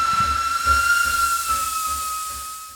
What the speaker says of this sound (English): The whistle sounds as an iron hull roars to a stop.